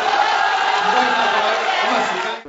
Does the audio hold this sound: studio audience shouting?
yes